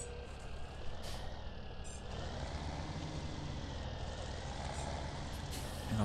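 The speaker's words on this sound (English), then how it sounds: "I'm gonna pull the trailer up a bit" A truck towing a log trailer in the farming game Farming Simulator 17. Quiet, steady engine rumble idles and drives on at a distance, with brief hissing air-brake bursts and faint beeps, and no talk.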